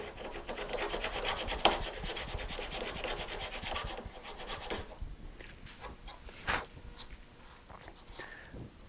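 A Lie-Nielsen router plane cuts across wooden tenons with steady rasping, scraping strokes, close and continuous at first, then thinning into sparser, lighter scrapes and a few sharp ticks.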